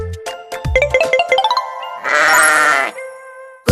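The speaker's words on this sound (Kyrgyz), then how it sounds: "Бул деген кой." A sheep bleats loudly and close by: a quick, wavering string of bleats, then one long, harsh bleat, and a brief bleat at the very end.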